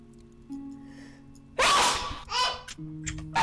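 A single loud, sharp sneeze bursts out over a quiet background hum, followed by a brief breathy exhale.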